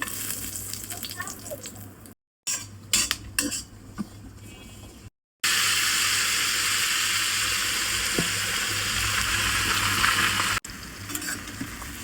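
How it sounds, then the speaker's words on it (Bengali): Spices temper in hot mustard oil in a wok, giving a loud, steady crackling sizzle that fills most of the stretch, with clinks and stirring scrapes before it and short gaps of silence. "তো এদিকে কড়াই গরম হয়ে গেছে, সরিষার তেল দিয়ে দেবো"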